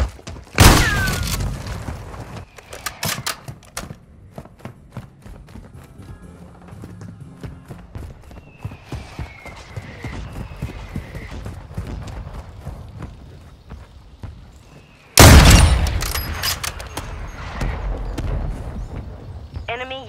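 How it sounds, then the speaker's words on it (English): Two heavy booming explosions, one near the start and one about fifteen seconds later, from an enemy mortar strike in a Call of Duty game, with game noise and footsteps rumbling between them. "Enemy mortar strike active"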